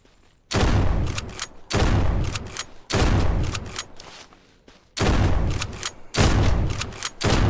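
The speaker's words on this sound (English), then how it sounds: "I know the shotgun is not supposed to be used at such distance" Five heavy shotgun blasts in the zombie survival game SurrounDead, each a loud booming report with a decaying tail, spaced about a second apart, no talking.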